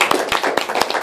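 A crowd applauding a performer at a live show, many hands clapping close and loud in a brief, dense burst with no voices audible.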